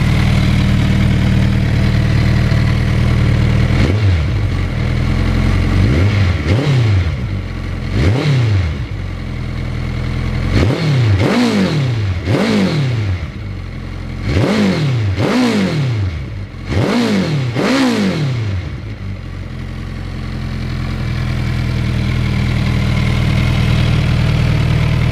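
Peugeot 106 with the standard exhaust silencers removed for an aftermarket exhaust, idling steadily and then revved in a series of about eight sharp, loud blips that rise and fall before settling back to idle.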